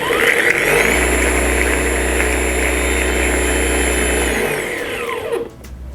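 Xenon CD-HPW400 cordless jet cleaner motor running loud and steady with a constant whine and low hum, winding down near the end before cutting off.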